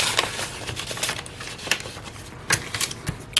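Paper cash bills shuffled and slid into a paper envelope, a run of crisp close rustles and flicks with a few sharper snaps, light and irregular with no talking.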